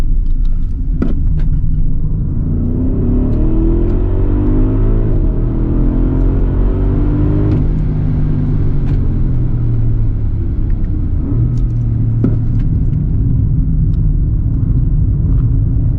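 A loud, steady engine rumble from inside a moving 650 hp ABT-tuned Audi SQ8 SUV, rising and falling in pitch as it accelerates and shifts, with no voices.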